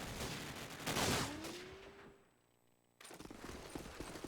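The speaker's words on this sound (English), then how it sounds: "Termi gets a shot into Reflexer" Gunfire in a Call of Duty 4 competitive match comes as quick bursts of rapid shots, fairly faint, followed by a near-silent pause and then another run of shots.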